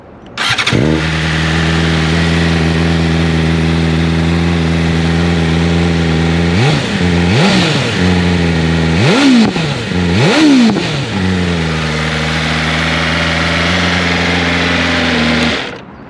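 A BMW M1000RR superbike engine starts and idles steadily, then is blipped through several sharp, loud revs before settling back to a smooth idle, close up with no talking.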